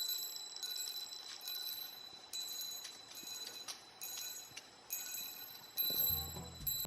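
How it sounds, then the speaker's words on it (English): Wind chimes ring in repeated bright, shimmering strikes that overlap and ring on, fairly close, with a low rustle near the end. "Wind chimes!"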